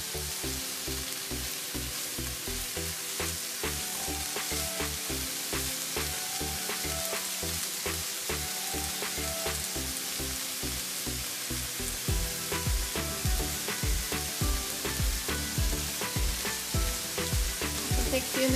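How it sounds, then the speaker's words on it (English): Vegetables fry in a pan for chicken fried rice, a constant loud sizzle with repeated clacks of stirring utensils, more rapid scraping toward the end, and no speech. "It takes a few minutes to cook the vegetables."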